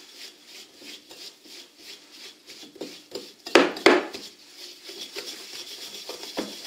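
Biscuit dough being mixed in a bowl, with soft rhythmic rubbing and scraping strokes and a couple of louder knocks against the bowl near the middle, fairly close and steady, no talking.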